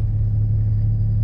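A low, steady rumble from the idling engine of a 2008 Dodge Grand Caravan SXT with 170k miles, a continuous deep growl with no talking over it.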